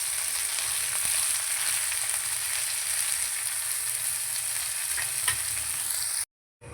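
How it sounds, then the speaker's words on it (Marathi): Bombay duck (bombil) fish frying on a hot griddle, a steady close sizzle running without pause and then dropping out to silence at the very end. "तर मित्रांनो अशा प्रकारे बघा बोंबील फ्राय करून झालेत."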